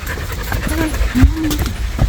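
Dogs pant in quick breathy bursts nearby at Starved Rock State Park, with a faint whimper, while people talk over them.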